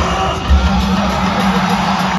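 A large crowd at the Beating Retreat border ceremony in Amritsar roars and yells in a loud, continuous wash of voices, with scattered shouts and whoops standing out near the start.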